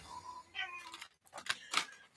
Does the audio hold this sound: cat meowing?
yes